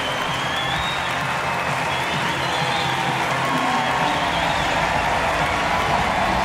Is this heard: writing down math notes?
no